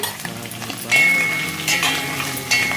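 Paneer frying in a pan while being stirred, a steady close sizzle with a utensil scraping and clinking against the pan and a brief louder burst near the end.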